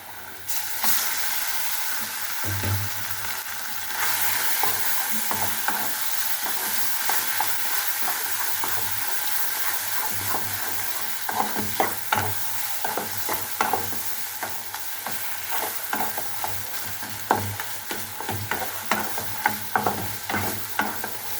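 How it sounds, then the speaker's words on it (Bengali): Papaya stir-fried with fried onions in a pan, continuous close sizzling with frequent scraping and clattering stirs growing busier in the second half, no talking. "পেঁপেটা দিয়ে আর একটু ভাজা ভাজা করে"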